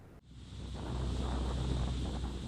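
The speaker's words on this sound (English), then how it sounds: "Niagara Falls, the great wonder that comprises 3 waterfalls into one" Steady, dense roar of the Niagara Falls waterfalls, which combine three falls into one along the Canada border. It swells in after a brief cut near the start, then continues as a loud, unbroken rush with no voices.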